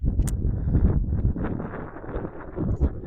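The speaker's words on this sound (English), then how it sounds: "I apologize for the wind." Low, rumbling wind buffeting a microphone in uneven gusts, loud and close throughout.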